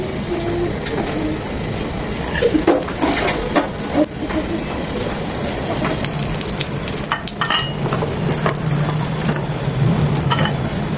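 Chicken rolls frying in hot oil give a steady, close bubbling sizzle with scattered crackles and occasional clinks throughout, no voice over it.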